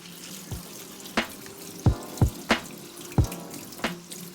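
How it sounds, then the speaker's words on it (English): Tap water runs over a cup of lentils being rinsed in a kitchen sink: a steady splashing stream punctuated by about eight sharper splashes and clatters, close and moderately loud. "Next, we'll rinse 1 cup of lentils."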